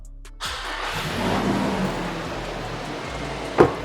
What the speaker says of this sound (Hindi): इसको अगर मैं स्टार्ट करता हूँ तब इसका स्टार्टअप सुनिएगा, बिल्कुल प्राडो जैसा है।